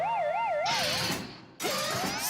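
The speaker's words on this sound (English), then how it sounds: "the alarm goes off, making the siren howl and the light flash" A cartoon electronic security alarm siren howls in a smooth rising-and-falling wail, then gives way to bursts of crashing, clattering effects.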